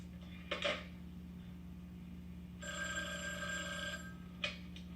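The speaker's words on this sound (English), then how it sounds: "I don't think my phone is ringing when it's supposed to." A telephone bell rings in a sitcom household scene, with two short bursts followed by a longer ring and then a brief final burst, heard faintly over a low steady hum.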